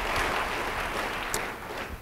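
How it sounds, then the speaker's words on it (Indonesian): A church congregation gives soft, steady applause, a dense wash of clapping that fades slightly toward the end. "Yang mau beri tepuk tangan bagi dia."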